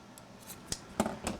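Scissors snipping through material while crafting a scrapbook pouch album, a few short crisp cuts at close range with no talking.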